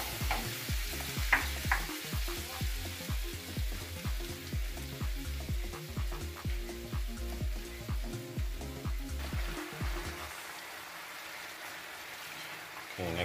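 Vegetables cook in a pan with coconut milk, a steady bubbling sizzle under rhythmic scraping stir strokes that stop near the end, leaving a quieter simmer.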